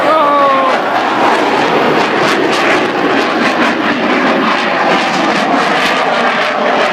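A fixed-wing aircraft with its landing gear down flies past at the Southport Air Show, a loud, steady engine roar sweeping by close overhead with a slight falling pitch.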